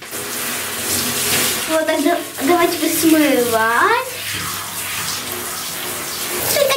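Warm tap water runs steadily, rinsing a kitten during a bath, while people talk over the splashing stream.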